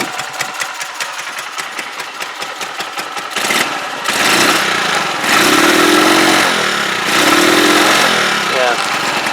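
A Huoniao HN125 motorcycle engine runs unevenly with a fault that needs carburettor work, its rough, fluctuating note growing louder and steadier partway through, with a person talking over it.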